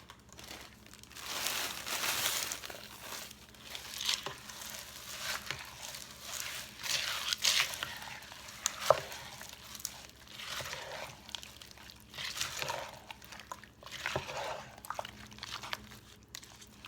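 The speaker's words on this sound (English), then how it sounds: "I'm going to add 2 14-ounce bags of frozen corn" Two 14-ounce bags of frozen sweet corn are handled and poured into a Brunswick stew, giving irregular crinkling plastic rustles and scattered crunchy rattles of frozen kernels, close and fairly quiet, in uneven bursts.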